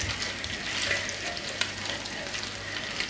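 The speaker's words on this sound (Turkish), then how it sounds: "bu yağı tıpkı tereyağı eritir gibi eritiyoruz" Beef fat sizzles steadily as it melts in a hot pan, a continuous close crackle with occasional small pops.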